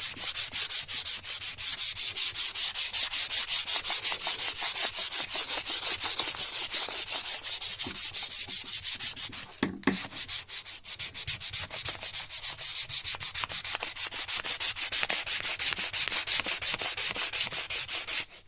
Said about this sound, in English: if you use a pad, even just a soft rubber pad with your fingers, it distributes the force better and you get better overall sanding